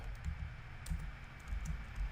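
Typing on a computer keyboard, quiet, quick key clicks in an uneven run over a low background hum, no voices.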